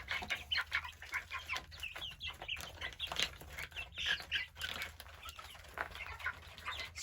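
Hungry young chicks chirp continuously for food in a dense, busy chorus of high peeps, loud and close, with no talking.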